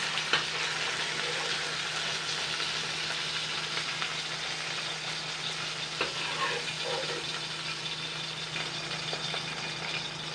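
Pieces of katla fish frying in oil as they are turned over, a continuous close sizzle with a low steady hum underneath and a few soft clinks from the turning.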